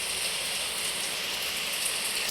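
Loud, steady rain hisses continuously in the Roblox game Build a Tower, a dense, unbroken wash of noise with no talk over it.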